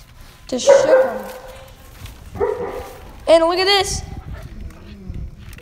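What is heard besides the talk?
dog barking in the background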